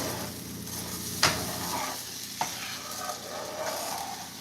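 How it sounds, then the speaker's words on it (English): Scrambled eggs get stirred in a frying pan over a soft steady sizzle, with a couple of sharp utensil scrapes and taps against the pan, close and without talk. "let me make sure I stir my eggs."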